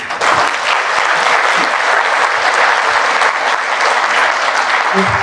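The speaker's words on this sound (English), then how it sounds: "I think that's a round of applause right there" A round of applause at a chamber of commerce legislative breakfast, loud, dense clapping from a full room sustained evenly for several seconds.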